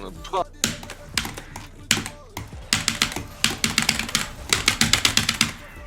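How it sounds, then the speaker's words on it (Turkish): A computer keyboard is clicked rapidly during a League of Legends match, with loud close keystrokes coming in dense clattering bursts and brief pauses between them. "klavyeden bu ses çıkması lazım"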